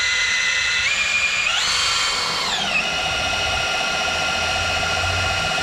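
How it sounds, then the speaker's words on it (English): Power drill spinning to prime oil through a ranch truck engine, a loud whining motor that rises in pitch, holds, then settles into a steady high drone, close and alone. "You can hear, now the drill's working."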